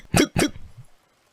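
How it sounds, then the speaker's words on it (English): Two sharp, loud hiccups come in quick succession close to the mic, each a brief voiced gulp, followed by a faint trailing breath and near silence. "Anytime I cough or like talk in a weird way, I just get like a hiccup,"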